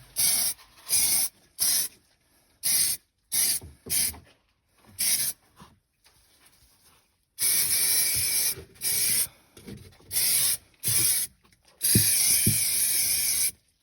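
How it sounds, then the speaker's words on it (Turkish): Repeated short bursts of aerosol spray paint, each hissing for about half a second, with brief pauses and a couple of longer sustained sprays near the end, painting a fiberglass repair on an Anadol car. "Dar bir yer olduğu için boya sıkmak zor oluyor."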